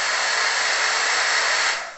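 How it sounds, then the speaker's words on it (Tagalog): A hair dryer and volumizer runs close by with a steady, loud whooshing hum, cutting off and fading near the end, with no talk over it. "gagamitin natin itong hair dryer and volumizer"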